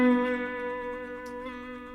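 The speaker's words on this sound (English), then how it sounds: "that's known as fretting out with a slide" Slide guitar fretting out, the slide pressed hard onto the string so a sustained buzzy pitched note rings with strong overtones, played alone and close.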